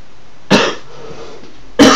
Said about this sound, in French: J'arrête pas de tousser, mais ça m'énerve.